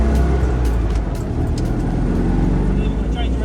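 A classic 1988 Citroën 2CV on low-quality tyres is driven around a bend on a greasy winter road, its small engine making a steady, close, continuous drone with road noise.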